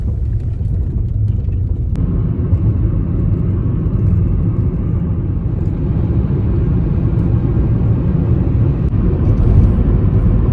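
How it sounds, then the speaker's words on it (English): A car cruises along a road, heard from inside as a steady, loud low engine and road rumble with no pauses. "Now I am driving to my mom's house"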